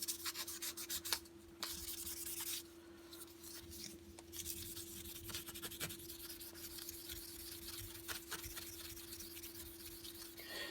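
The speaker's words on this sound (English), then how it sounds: "I still got a lot of this sanding to do" Steady scratchy rubbing as rust is sanded by hand from a Coke bottle knife, continuous back-and-forth strokes, close and faint, over a constant low hum.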